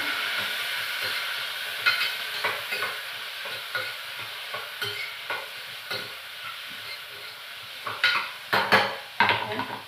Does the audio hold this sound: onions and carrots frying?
yes